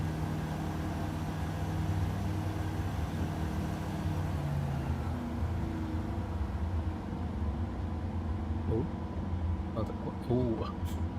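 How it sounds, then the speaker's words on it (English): Aircraft engines drone steadily in a flight simulator game during a nighttime taxi into a storm at Lake Charles, Louisiana: a loud, continuous low rumble with a few faint clicks and shifts near the end. "can you hear me over the engines or do I need to turn that down?"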